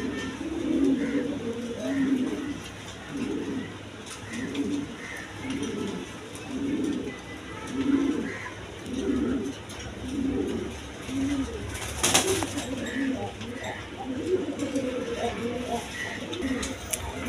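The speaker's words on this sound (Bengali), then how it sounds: "এক পেয়ার চুয়া সুন্দর কবুতর আছে, দেখেন ডিম নিয়ে বসে রয়েছে" Pigeons of good breeding stock coo in a loft while a pair sits on eggs, soft rhythmic low coos repeating roughly every second, close and steady, with a brief burst of broadband noise partway through.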